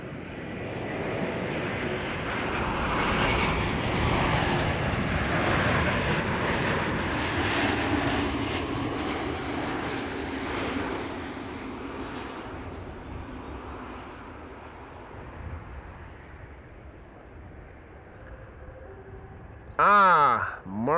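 KLM Embraer E195-E2 jet arriving at Amsterdam Schiphol from Bologna, a loud broadband engine roar that slowly fades as it passes, ending in a brief burst of nearby talk.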